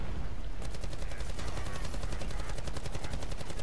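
Rapid automatic gunfire in a zombies-mode video game fills the clip, a dense, continuous rattle of shots growing busier after the first half-second, loud and steady with no talk over it.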